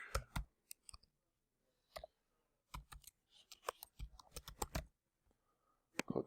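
Computer mouse clicks sound close in a quiet room, coming alone and in quick bunches with short silent gaps between, as someone works through a SQL database app.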